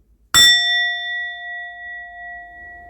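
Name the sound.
bell ringing with echo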